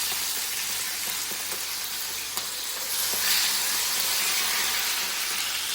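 Pomfret coated in fish masala tawa-frying in oil on a griddle, giving a dense, continuous sizzle that stays loud and steady throughout, close up and with no voices.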